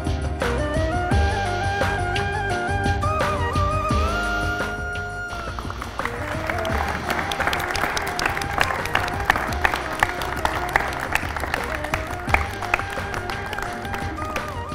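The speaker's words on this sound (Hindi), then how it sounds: "ग्रुप एडवाइजर असलम तरीन, ग्रुप एडिटर इरशाद आरिफ और सीनियर तज्जियाकार आरिफ निजामी ने सालगिरह का केक काटा तो स्टूडियो तालियों से गूंज उठा।" Studio applause fills a news channel's anniversary celebration as senior staff cut a cake, loud sustained clapping mixed with busy music-like tones throughout.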